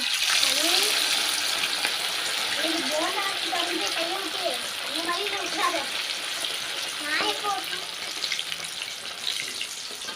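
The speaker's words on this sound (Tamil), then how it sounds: "இப்போ நம்ம எண்ணெயில் போட்டு எடுத்துக்கலாம்" Marinated river fish frying in hot oil gives a steady, dense sizzle that runs through the whole stretch, with a person talking over it now and then.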